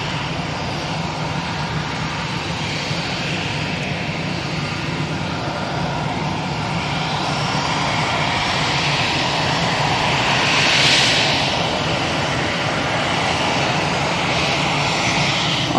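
An easyJet airliner's jet engines drone steadily at Manchester Airport, a broad continuous roar that swells slightly near the end, heard from a distance without talk.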